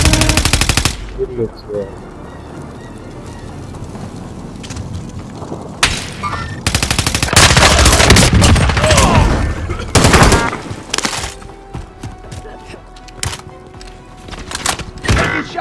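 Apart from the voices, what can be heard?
gunfire in a video game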